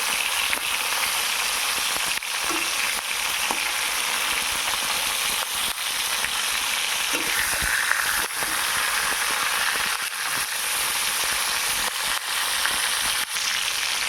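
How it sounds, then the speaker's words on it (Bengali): Constant crackling sizzle of pieces frying in a pan, loud and close, with occasional faint clicks. "এক এক পিস করে ভাজা করবো"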